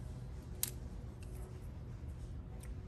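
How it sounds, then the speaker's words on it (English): Pruning shears snip through a rose tree branch with one sharp close cut, followed by a couple of faint clicks over steady room hiss. "So I'm going to cut it right here."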